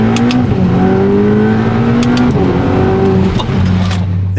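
A Seat Leon Cupra with a 3-inch non-resonated turbo-back exhaust drones loudly up close under acceleration, a steady booming tone rising in pitch before a brief shift, with no talking.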